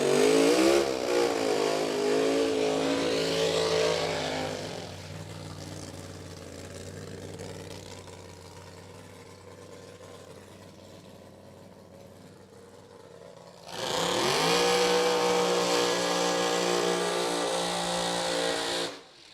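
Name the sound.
drag racing cars doing burnouts in burnout box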